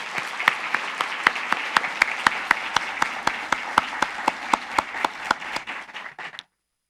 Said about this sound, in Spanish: Pido un gran aplauso para nuestra directora.